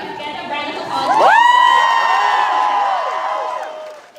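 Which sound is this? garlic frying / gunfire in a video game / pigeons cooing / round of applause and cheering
round of applause and cheering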